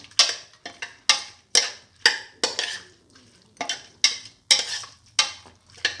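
Chicken necks and fenugreek leaves being stirred in a pan, with sharp repeated scrapes of a utensil against the pan in a steady rhythm, about two per second, close and fairly loud over a faint sizzle.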